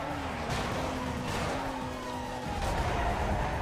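Police cars chase at high speed in the video game Need for Speed Most Wanted, a dense, continuous wash of engine whine and road roar with shifting tonal pitches, loud and steady throughout.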